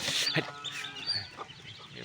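Native hens and small chicks at a farm, with soft clucks from the adults and high peeping from the chicks, close and fairly quiet in short scattered bursts.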